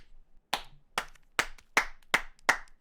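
Six sharp hand claps in a slow, fairly even rhythm, close and loud against near silence, with no talking.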